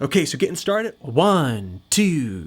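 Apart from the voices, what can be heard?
No everyday noises stand out.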